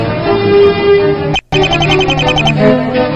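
Ringtone music from the video game Apollo Justice, a loud electronic melody playing steadily, cut by a brief silent break before the tune resumes.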